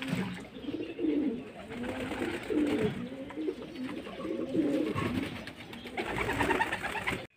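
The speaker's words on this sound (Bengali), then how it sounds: "কিছু পায়রা চান করছে" Domestic pigeons cooing steadily in a group, a close, repeated rolling coo over soft splashing and fluttering as the birds bathe together.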